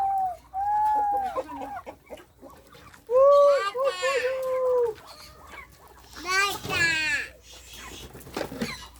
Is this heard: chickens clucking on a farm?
yes